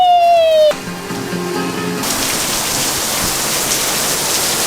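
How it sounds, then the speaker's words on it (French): After a brief tone and a short hum, a dense, steady hiss of heavy rain takes over and pours on without pause. "Mais c'est le déluge."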